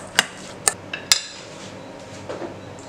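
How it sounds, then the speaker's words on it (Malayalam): Shawarma filling with crushed black pepper is mixed in a bowl, giving a few sharp clinks of a utensil against the bowl spaced over a few seconds, then softer scraping, with no talk. "എന്നിട്ട് നന്നായിട്ടൊന്ന് മിക്സ് ചെയ്തെടുക്കാം."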